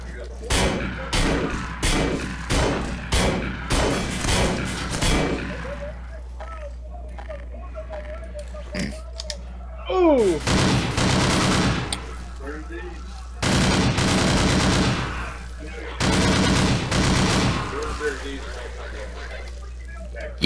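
Gunfire in the SMOD Outbreak shooter game: a rapid run of loud, evenly spaced shots, then several heavier bursts of sustained firing separated by quieter gaps, with a voice speaking between them.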